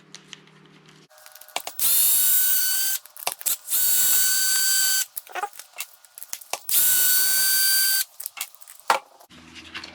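A power driver or drill spins out the four screws on each side of a Losi LMT axle assembly in several loud bursts of two to three seconds each, with clicks and handling noises between them.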